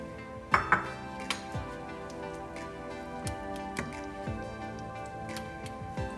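A utensil clinks and scrapes against a pan while Thai green fish curry is served out, with a few sharp metallic knocks followed by softer scraping taps, close and fairly quiet, with no talking.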